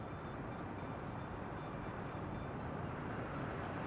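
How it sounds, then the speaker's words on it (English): A train in the Workers & Resources: Soviet Republic game rolls by as a steady, dense rumbling wash with faint rhythmic clatter, fairly quiet and continuous throughout. "Look out! There's a train coming!"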